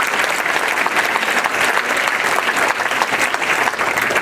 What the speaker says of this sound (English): You should applaud yourself right now.